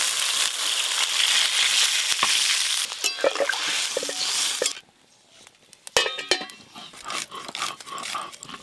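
Water poured into a pot of taro pieces in a kadai: a loud, steady rushing pour fills the first half, then stops, followed by clinks and stirring of the pot.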